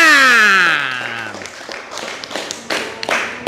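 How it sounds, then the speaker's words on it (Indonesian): Scattered hand claps from an audience at a religious lecture begin after a sliding vocal tone fades, sparse and uneven rather than full applause. "Tepuk tangan."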